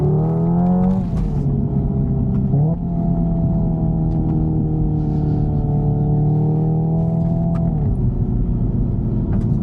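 A Hyundai Ioniq 5 N's drive hums loudly and steadily from inside the car, its pitch shifting at a few simulated gear changes while driving.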